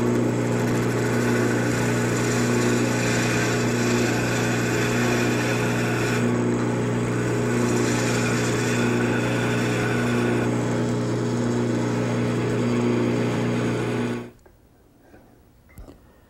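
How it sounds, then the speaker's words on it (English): A woodturning lathe hums steadily while a gouge fine-tunes a spinning wooden workpiece for a TV tray table, with a continuous close cutting whir that cuts off near the end, leaving quiet room tone. "Now I'll return to my gouge and start fine-tuning it."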